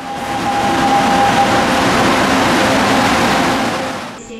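A metro train rolls into a station through a tunnel, a loud sustained rumble with a faint high whine early on, then it fades and cuts off.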